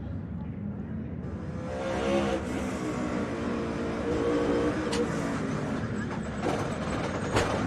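NASCAR Cup Series stock cars roaring around the Chicago street course after a crash, a steady loud engine drone with passing cars, under a commentator's voice.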